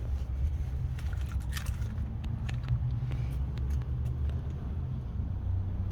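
A 2018 Isuzu D-MAX SX runs with a steady low engine rumble heard from the driver's side, faint clicks over the drone, no talking.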